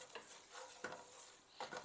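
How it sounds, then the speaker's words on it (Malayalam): Spice powders including coriander powder and garam masala roasting in a pan for prawn biryani, with a few faint, close stirring scrapes over a soft sizzle and no voices. "പൊടികളുടെ പച്ചക്കുത്തെല്ലാം ഒന്ന് മാറി വരാൻ പാത്രം ഒന്ന് മൂപ്പിച്ചെടുക്കാം"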